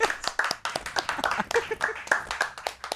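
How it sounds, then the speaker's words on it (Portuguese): Steady rapid hand clapping from a few people, close and lively, with some voices mixed in. "estamos batendo palmas"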